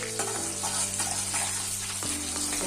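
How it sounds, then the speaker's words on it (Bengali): Black cumin seeds sizzle steadily in hot oil in a pan, a close, continuous frying hiss with soft stirring scrapes, prepared after the prawns are lifted out for a steamed prawn dish. "এখন আমি অল্প একটু কালো জিরে দিয়ে দিচ্ছি কালো জিরেটা একটু নাড়াচাড়া করে দেবো"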